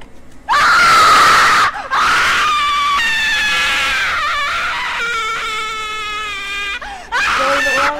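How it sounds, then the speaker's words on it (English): Loud, close screaming from players in Slendytubbies: Anniversary Edition, several long wailing, piercing shrieks in bursts with brief gaps between them. "Stop screaming in my ears!"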